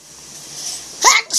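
After a moment of faint background noise, a single sharp sneeze bursts out close by, followed by a brief breathy sound.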